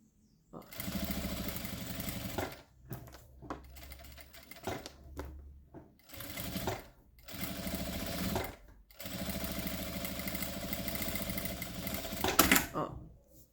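A sewing machine stitches a narrow strap for a thermal water bottle holder, running in several bursts of steady, rapid mechanical chatter separated by short pauses, with a voice speaking between the runs.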